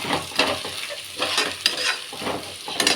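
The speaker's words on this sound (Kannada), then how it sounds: "ಇವಾಗ ಬದನೆಕಾಯಿ ಇಷ್ಟು ಫ್ರೈ ಆಗಿದೆ" Brinjal pieces frying in a pan for vangi bath make a soft sizzle broken by the scrape and clatter of stirring, in short uneven bursts with no voices.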